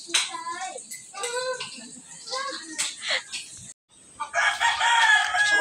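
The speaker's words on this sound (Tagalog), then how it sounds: "May mga manok silang alaga dito." Backyard chickens kept in a rural province setting cluck repeatedly in short bursts, joined by a rooster crowing loudly and close by, with some people talking in the background.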